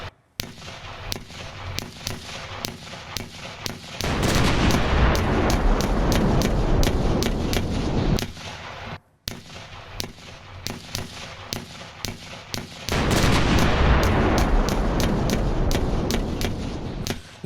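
Heavy blasts and rapid gunfire-like cracks rattle through a battle scene in which a Pakistani army tank is blown up, with two long roaring bursts of explosion noise between stretches of sharp repeated bangs.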